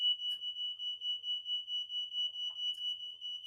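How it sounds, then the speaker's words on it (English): A fire alarm sounds continuously at a steady high pitch, pulsing in a regular fast rhythm for several seconds, indoors and moderately loud, with faint scattered background noises. "I'm gonna let them turn off the fire alarm"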